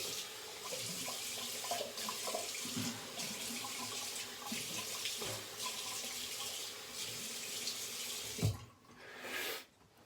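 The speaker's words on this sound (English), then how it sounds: "Gonna rinse that off because that's what I like to do." Water from a bathroom tap runs steadily into a sink while the face is rinsed after a wet shave, close and continuous, ending in a brief louder splash and gurgle.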